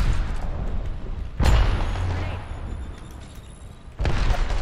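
Grenade blasts in the shooter game Apex Legends: two loud, heavy booms a few seconds apart, each followed by a rumbling decay over a steady noisy background.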